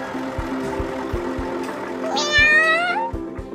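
A kitten in a children's cartoon meows once, a clear rising-and-falling cry over steady background music with soft rhythmic beats.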